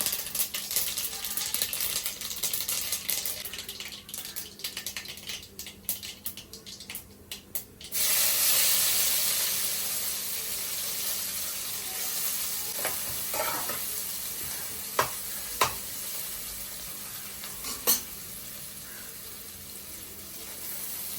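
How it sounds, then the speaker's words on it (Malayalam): Mustard seeds, shallots and garlic frying in hot coconut oil give a steady loud sizzle. A few sharp pops and utensil clicks come near the end, with no voices. "നമ്മുടെ വെളിച്ചെണ്ണയിൽ കടുകിട്ട് കൊടുത്തു."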